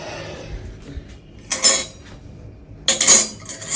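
A metal spoon clinks and scrapes against a pan while stirring roasted nut powder into baby food, with two short, close clattering strokes separated by quiet stretches.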